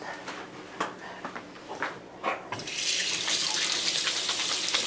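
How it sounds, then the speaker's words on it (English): Kitchen tap turned on to wash hands while cooking a keto cheese casserole: scattered clinks and handling knocks first, then a steady rush of running water into the sink. "Mama's got to wash her hands."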